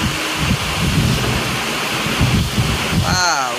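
Steady rain pours with a rumble of thunder in Surat, Gujarat, a broad continuous wash of noise with low booms rolling through and a faint voice near the end.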